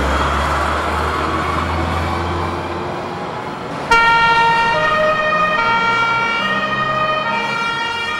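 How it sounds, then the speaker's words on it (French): An ambulance in Geneva departs to carry people hurt in a road accident. A low engine rumble comes first, then the loud two-tone siren suddenly starts and wails steadily up close. "Départ ambulance"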